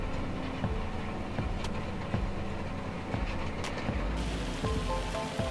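Heavy rain pours down in the farming video game Farming Simulator 25 in a German countryside setting, a steady dense wash of noise with faint rumbling and scattered ticks throughout.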